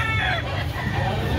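A Cebu gamefowl rooster crows loudly and close up in a single strained, raspy call that lasts just over a second and ends abruptly.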